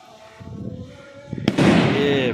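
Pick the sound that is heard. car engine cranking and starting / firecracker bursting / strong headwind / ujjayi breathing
firecracker bursting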